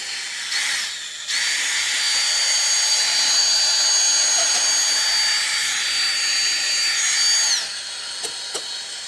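A polishing machine working on a Ducati Multistrada V4S Pikes Peak motorcycle, a loud, steady high-pitched whir that spins up quickly, holds for several seconds, then cuts off, leaving a few faint clicks.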